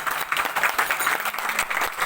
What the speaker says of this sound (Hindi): के लिए जोर से ताली बजाइए आप लोग।